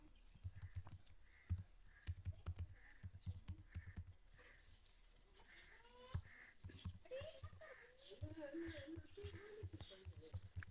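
A name and email are typed on a keyboard into a travel website's contact form, making quick irregular key clicks in short runs beneath steady talking.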